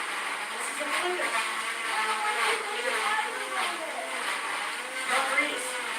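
A kitchen blender whirs steadily while mixing a yogurt smoothie, a loud continuous motor drone that runs the whole time as people talk over it nearby.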